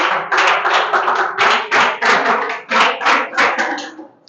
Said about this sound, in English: Ladies and gentlemen, let the big clap for both.